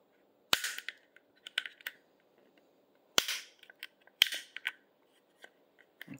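Sharp metallic snaps and small clicks from prying a retaining ring off a Glock 43X or 48 magazine catch while fitting a Shield Arms catch, three distinct bursts with scattered ticks between, close up and with no talking.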